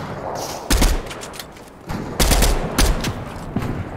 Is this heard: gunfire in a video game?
yes